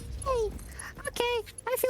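A dog in someone's lap gives a few short, high whimpers and yips, close and soft, with a person's voice mixed in.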